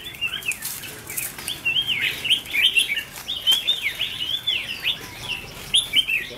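A red-whiskered bulbul chirps in quick, bright bursts, close and fairly loud, repeating almost continuously with short gaps.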